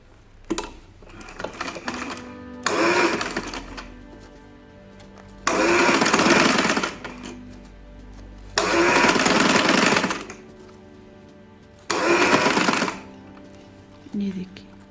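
A sewing machine stitches lace trim onto a child's velvet party frock in four separate loud, close bursts of fast whirring, each one to two seconds long, with quieter gaps between them and a voice talking through the pauses.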